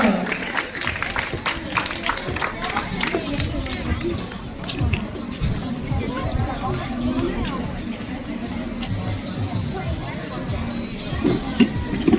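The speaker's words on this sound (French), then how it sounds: "Ils ont dit qu'on peut l'applaudir bien fort." Spectators at a Capfun canine competition clap in a long, steady round of applause, with crowd murmur mixed in and a voice speaking now and then.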